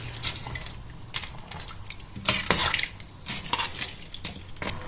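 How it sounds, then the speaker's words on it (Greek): Beef and peas with dill and carrot being stirred in a cooking pot, with repeated scraping and clinking of a utensil against the pot and soft wet sloshing, close and moderately loud. "Ένα ανακάτεμα."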